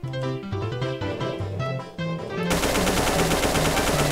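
An assault rifle in The Golden Souls video game fires a rapid, loud continuous burst over melodic game music, the shots swamping the music.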